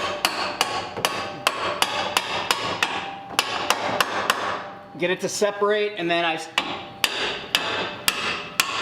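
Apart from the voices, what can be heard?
hammer hitting pickle fork on control arm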